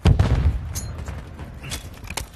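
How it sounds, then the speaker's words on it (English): Stun grenade going off in a shooter video game, a loud close burst followed by rattling crackles and several sharp impacts over a couple of seconds, with no talking. "Throw your stun grenade!"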